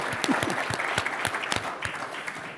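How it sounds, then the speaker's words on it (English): Audience applause at a morning policy panel on school safety, a steady wash of many hands clapping, fairly close and dense, with no talk over it. "Yeah, please applaud for Steve."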